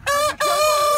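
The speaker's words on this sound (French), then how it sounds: "Donc là il y a le coq" A fighting rooster crows loudly and close by, a harmonic call broken by a brief gap and then stretched into a long, wavering cock-a-doodle-doo.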